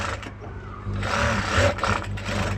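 A sewing machine runs a brief burst of stitching along a folded-in edge strip of a plain blouse, a close, loud, continuous motor hum.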